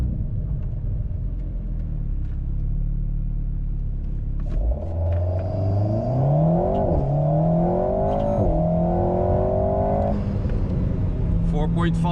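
An Alpine A110 tuned with RaceChip to 303 hp accelerates hard, its intake drawing a loud sucking whoosh over a rising engine note that climbs through several gear changes before easing off, with a steady low rumble underneath.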